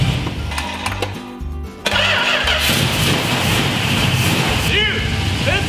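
A Plymouth Belvedere with a big block V8 cranks briefly, then catches and roars into a loud, rough, rumbling idle that stays steady and close, with a few sharp chirps over the running engine.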